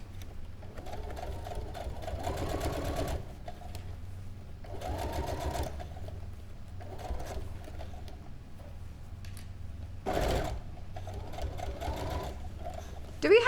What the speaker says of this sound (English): I'm just sort of sewing within my seam allowances